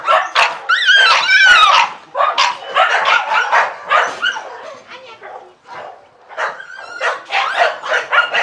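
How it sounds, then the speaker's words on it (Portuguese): A French Bulldog barks and yips loudly nearby at a kennel in rapid, excited bursts, with some whining between the barks. "O cachorro tá latindo, tá querendo vir pra cima"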